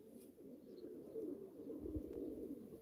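Pigeons cooing softly at a live auction of game birds, low rolling coos repeating in the background, faint and somewhat distant with a brief low thump.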